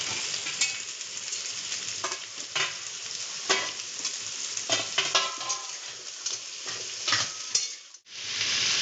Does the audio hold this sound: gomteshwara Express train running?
no